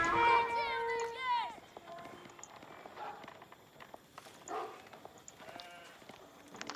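Sheep bleating in the real-time strategy game Age of Empires, a few wavering bleats at the start followed by scattered game clicks and small effects, with a commentator talking throughout.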